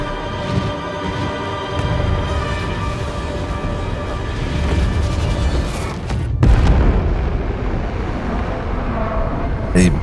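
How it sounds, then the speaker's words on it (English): A big explosion from the Total War: Warhammer III video game, set in the Chaos Wastes: a deep boom rises out of droning orchestral game music, with a sharp hit partway through followed by rumbling. "A big explosion, apparently."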